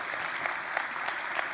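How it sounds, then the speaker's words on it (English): Church audience applause during a sermon demonstration, a soft, steady patter of many hands clapping for a short moment, fairly distant and faint. "Let's give Rob a round of applause."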